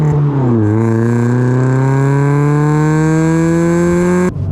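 A car engine and exhaust drone heard from inside a soundproofed car, loud and close, dipping briefly then climbing steadily as it accelerates, with no talking.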